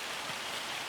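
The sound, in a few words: rain in Farming Simulator video game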